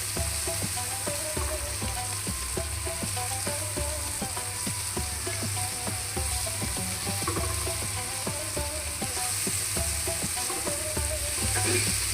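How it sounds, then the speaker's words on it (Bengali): Noodle soup base of salted tomato sizzles in a pan while a spatula stirs it continuously, producing a steady frying hiss with regular scraping taps, close-up and without speech. "এটা কিন্তু অনবরত নাড়তে থাকতে হবে বন্ধুরা"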